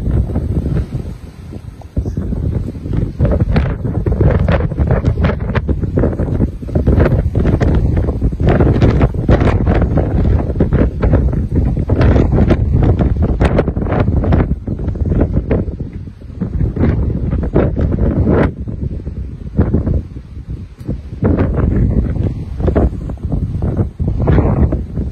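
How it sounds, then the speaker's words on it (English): Strong wind in Jaywick, England, batters the microphone with loud, continuous roaring gusts and sharp buffeting bursts, sustained with few lulls for the whole stretch. "Look how windy it is there."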